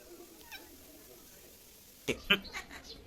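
A cat meows a few times, short and moderately close, after a quiet stretch with faint background noise.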